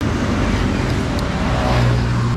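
Steady, loud street traffic near an airport in Bandung, Indonesia, with cars passing and engines rumbling continuously close by and no talking.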